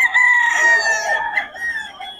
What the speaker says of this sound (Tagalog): mga solid to mga manok ni Boss Russell